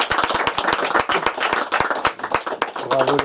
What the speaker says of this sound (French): on peut applaudir Dimitri et Xavier pour le boulot incroyable qu'ils ont accompli